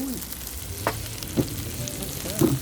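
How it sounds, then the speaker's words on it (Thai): Pork and meat sizzle on a backyard Thai moo kratha grill, a steady broadband frying hiss with a few brief louder spits and bursts, close and continuous with no talk. "ไปเอาจานมา ย่างกันสดๆ แบบนี้เลยค่ะ"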